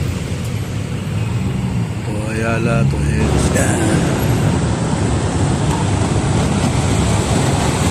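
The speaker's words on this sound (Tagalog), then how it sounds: "Traffic na naman." Busy street traffic on Makati Ave rumbles steadily throughout, a dense close roar of passing vehicles under people talking nearby.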